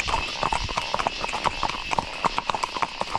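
Horse hooves clip-clop along a plantation trail in a steady, close rhythm of sharp knocks, with faint voices in the background.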